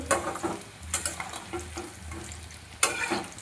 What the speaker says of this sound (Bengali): ভেজে নিয়েছি, এবার বের করে আনবো।